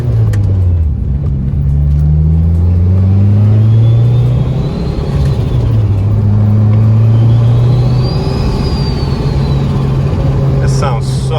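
Boosted Mitsubishi 4G69 engine in a car, fresh motor mount fitted, revving up and down in smooth rising and falling sweeps, loud and close, with a faint turbo whine above the steady rumble.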